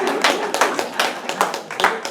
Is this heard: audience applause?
yes